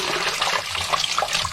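Water drains out of a toilet into a bucket during a repair, a close, steady gurgling rush of running water lasting a moment.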